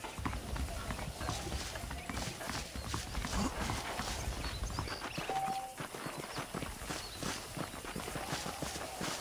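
Horse hooves clip-clop in a steady walking rhythm over a continuous outdoor ambience in the video game Red Dead Redemption, close and moderately loud, with a voice speaking over them.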